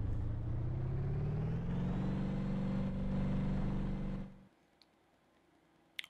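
Car engine revving at the start of a drag race in the driving game BeamNG.Drive, a loud sustained drone rising in pitch, then cutting off abruptly into near silence with a few faint clicks.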